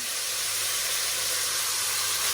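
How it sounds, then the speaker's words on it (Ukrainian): Beef pieces browning in a frying pan for beef stroganoff over a lowered flame, giving a steady, loud, broadband sizzle and hiss throughout with no talking. "І так, м'яско у нас підсмажується, я трошки зменшую вогонь"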